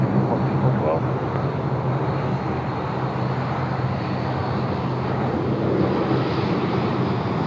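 A passenger aircraft roars steadily as it takes off from runway 16 right at Sydney Airport in wet weather, with talk running over the engine noise.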